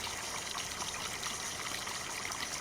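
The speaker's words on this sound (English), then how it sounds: "gradually this will fill up with water" Water steadily trickles and streams into a rice field in Farming Simulator 19, a constant even rush of flowing water without pauses.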